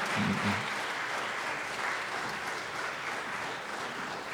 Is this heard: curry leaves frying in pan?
no